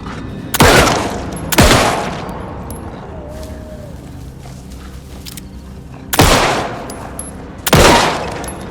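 Gunfire in the video game Alan Wake 2, with four loud, sharp shots in two spaced pairs, each ringing out in a short decay, over a dim ambient background.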